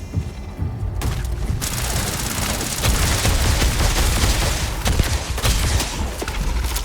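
Rapid bursts of gunfire in the Starfield game pile into a dense, loud barrage with booming impacts that keep going without a pause once the shooting starts.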